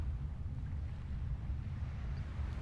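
Deep, steady engine rumble below deck aboard a simulated supercarrier, a constant low drone with faint airy hiss above it and no other distinct events.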